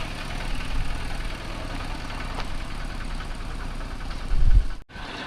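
Farm tractor engines running outdoors on a rural road, a low steady chugging idle with faint knocking, fairly distant and even, swelling louder near the end before cutting off abruptly.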